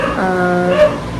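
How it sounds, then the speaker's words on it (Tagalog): A dog nearby gives a single drawn-out whining yelp, loud and close, with no talking. "Ano ba yun yung aso?"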